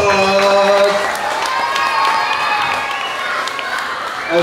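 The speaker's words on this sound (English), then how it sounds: "Let's give them one more round of applause." A crowd of students cheers and shouts at a school awards assembly for grades 3 to 5, a loud sustained roar of high voices with applause underneath.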